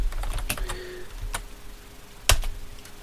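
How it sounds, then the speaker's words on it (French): Commands are typed on a computer keyboard while installing Asterisk VoIP software, with a few scattered key clicks and one sharper, louder keystroke near the end, heard up close in a quiet room. "donc voilà les instructions qu'on va devoir saisir"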